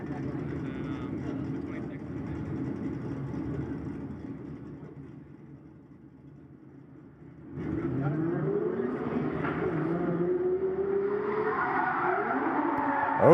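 A Nissan G35 drift car with a 3.5 engine competes at a grassroots drifting round at Agassiz Speedway. The engine roar fades into a brief lull, then surges back loud with rising revs and squealing, skidding tires.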